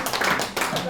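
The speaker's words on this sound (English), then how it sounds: "Clap for yourself." A group of people claps briefly in a residential compound, a short uneven burst of hand claps under a murmur of voices.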